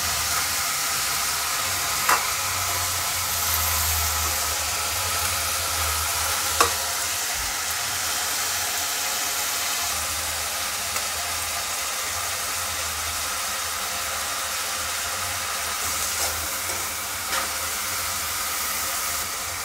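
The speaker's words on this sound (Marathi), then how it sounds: "आता यात 5 मिनिटं आपण याला छानपैकी फ्राय करून घेऊया।" Chopped bell pepper (capsicum) fries in a pan for a home-style vegetable dish, giving a steady, close hiss of sizzling with occasional stirring scrapes and clicks, with no talking.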